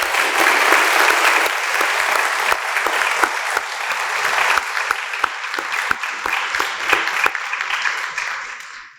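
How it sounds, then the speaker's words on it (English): An audience at a women's gathering at Rogers breaks into loud, sustained applause, many hands clapping densely for several seconds before thinning and fading out at the end. "join in giving her an applause for all of her work here at Rogers"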